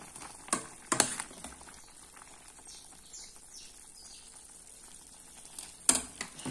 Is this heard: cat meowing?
no